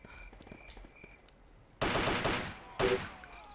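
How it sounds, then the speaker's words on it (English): Gunfire in the Ghost Recon video game: two loud, sharp bursts of shooting, the first longer, ringing out after a quiet stretch of faint game ambience. "I'll just walk up and shoot him quick."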